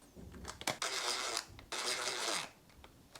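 Bolts driven in with a ratcheting tool while installing handlebars on a KTM 250 SX motorcycle under rebuild: two sustained bursts of close, rapid mechanical whirring and ratchet clicking, with brief pauses and a few small knocks, no talking.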